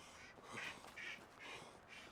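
A duck in the Medieval Dynasty video game quacks four times in an even rhythm, soft and fairly close, with no talk over it.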